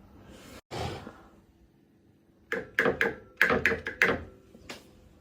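A metal figurine is knocked several times, giving a quick cluster of sharp, hard taps in the middle of the clip and one more near the end, close by in a quiet room, with a soft breathy sound earlier.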